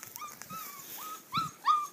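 A six-week-old puppy, a very dark female, whimpers in a few short, high, thin cries, with two louder whines near the end. It is close and fairly faint, with no talking.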